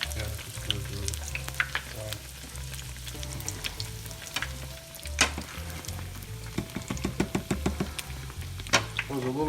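Stretched donut dough for Boston cream donuts fries in hot oil with a constant bubbling sizzle, punctuated by several sharp knocks and clatters of a utensil and a brief burst of rapid taps near the end.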